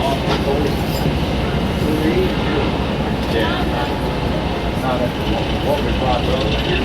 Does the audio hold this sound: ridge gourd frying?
no